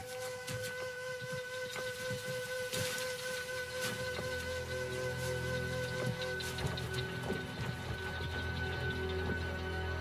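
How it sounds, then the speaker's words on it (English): Steady rain falls across the Kalahari, a dense continuous patter of drops on the ground with faint tonal hums in the background and no voices. "Rain in the Kalahari is always patchy and unpredictable."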